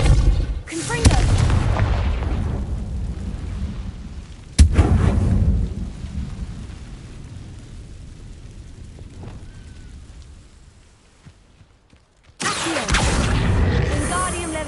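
A Confringo fire spell detonates in Hogwarts Legacy, a sharp loud blast followed by rumbling booms and a long fading roar, then a fresh burst of loud crackling noise near the end.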